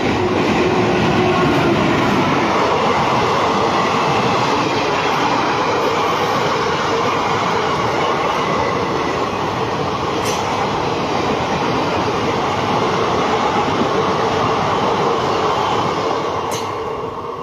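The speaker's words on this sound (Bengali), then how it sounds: "একদম ট্রেন ছুটে গেল, ভালোভাবে দেখে বুঝতে পারলাম না কি ট্রেন গেল" A train rushes past a railway station platform at speed, a loud continuous roar of wheels and carriages with rhythmic clatter holding steady for the full length before easing slightly at the end.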